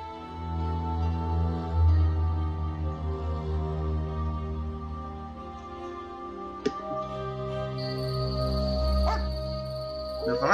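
A dog in The Witcher video game gives soft barks and yips over a droning in-game ambience, brief and moderately close, with a faint ringing tone appearing near the end.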